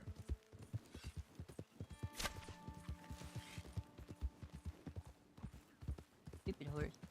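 Horse hooves clip-clopping in a steady galloping rhythm in the video game Red Dead, with a short neigh near the end and someone talking over the hoofbeats.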